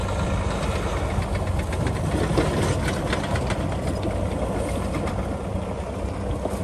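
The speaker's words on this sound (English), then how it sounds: "The motor sounds real healthy too. It's a good sounding motor." A 2013 Mack Pinnacle CHU613 truck's diesel engine runs at a steady idle, a constant low rumble with faint knocking texture, close and continuous with no talking.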